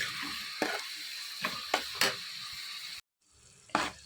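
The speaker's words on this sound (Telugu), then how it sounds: "ఇవన్నీ బాగా మిక్స్ చేసుకొని ఆనియన్స్ అన్నీ కూడా మగ్గేంత వరకు వేయించుకోవాలి" Onions and cumin fry gently in a pan for crab curry, a soft sizzle broken by a few distinct spoon scrapes and clicks, with a short drop to near silence before another stir.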